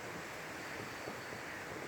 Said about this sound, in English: I don't know if the camera is picking up all that wind noise. It is super windy outside.